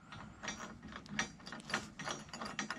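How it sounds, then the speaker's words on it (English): Stainless steel nut with a large washer and lock washer being tightened onto a bolt while attaching skate ramp coping, giving a steady run of close ratchet clicks and metal ticks with no talking. "You get to put your nut on there and tighten it all down."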